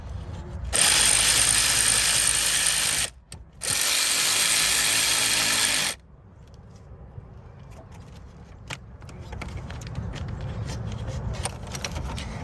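A ratchet wrench tightens a bolt on the high-pressure fuel pump of a Honda Accord, producing loud, rapid close-up clicking for about five seconds with one brief pause. Quieter mechanical fiddling follows after it stops.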